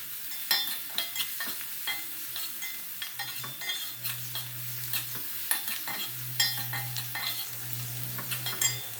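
Sliced onions, salted, sizzle in hot oil in a pan for a Kerala-style chicken dish, with a steady fry hiss broken by repeated scraping stirs of a spatula and occasional clinks against the metal, close and clear.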